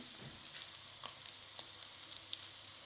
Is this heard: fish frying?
yes